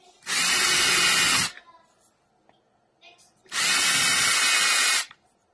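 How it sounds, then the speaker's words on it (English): A power drill whines loudly in two bursts of about a second and a half each, boring small shallow holes around the perimeter of a piece, with brief quiet handling noise between the runs. "we're going to drill some small shallow holes just around the perimeter here"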